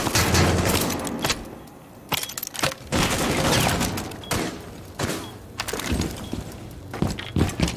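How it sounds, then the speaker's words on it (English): Muffled bursts and thumps of grenade-launcher fire in the game Rainbow Six Siege, several sharp reports spaced irregularly among clatter and movement noise. "Firing grenade!"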